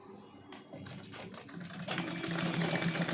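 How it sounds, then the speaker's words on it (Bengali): A sewing machine stitches folded blouse fabric, starting with a few quiet clicks and handling sounds before breaking into a fast, steady mechanical rattle that grows louder. "এইভাবে করেই আমি ফোল্ড করতেই যাব আর সেলাই দিতে থাকবো"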